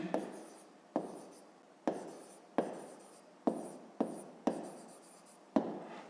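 Pen writing a math formula on paper, a series of about eight short scratchy strokes, each starting with a tap and fading out, quiet and close with no speech.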